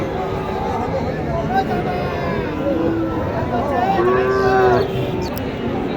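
Cattle low repeatedly over a steady background of crowd chatter and bustle at the Mataji cattle market in Naogaon, Bangladesh, with a couple of long moos standing out near the end.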